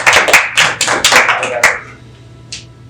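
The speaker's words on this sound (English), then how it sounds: "Give yourself a round of applause." A few game-show players clap for themselves in a short, close burst of claps lasting under two seconds, then quiet with one faint tap.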